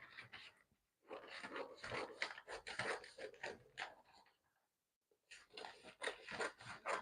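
Scissors cut fabric for the back piece of an underbust bustier: quiet, close snipping and rasping strokes in two runs, separated by a brief pause.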